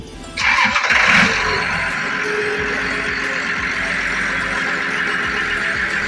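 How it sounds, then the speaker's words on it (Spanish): A loader's engine cranks briefly, then catches with a loud roar and settles into a steady, even idle that runs on without talking. "Seguidamente vamos a encender el vehículo."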